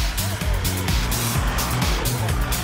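An Isuzu 4x4 with a 3-litre diesel engine drives on an off-road challenge course, its low rumble rising and falling steadily and loudly beneath a voice.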